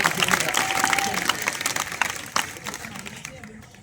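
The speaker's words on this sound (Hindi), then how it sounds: "ताली बजाओ।" Audience applause at a Hindi poetry recital, a dense burst of clapping from a crowd that starts loud and gradually thins and fades over a few seconds, with no speech over it.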